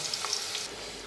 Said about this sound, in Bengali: এবার আলু আর পটলগুলো ভালো করে ভেজে নেব